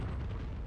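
Artillery shell explosion in World of Tanks, set on the Prokhorovka map: a brief, loud, low rumbling blast, dense and booming for under a second.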